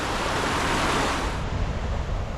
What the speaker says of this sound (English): Got a little waterfall in here under the bridge.